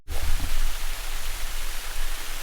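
Steady broadband rush of a waterfall at Rainbow Springs State Park in Florida, a continuous even roar from start to finish with no voices.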